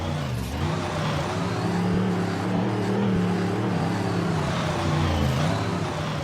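The Stomper Bully monster truck driving over a row of cars at a 1985 Indy event, its engine a sustained loud droning rumble that swells slightly as it revs.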